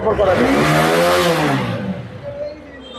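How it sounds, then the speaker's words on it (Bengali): Used motorbike at a bike gallery, its engine revving up in a rising then falling whine close by, a voice briefly audible over it. "ইঞ্জিনের সাউন্ড আছে ভাই গাড়ি স্টার্টে"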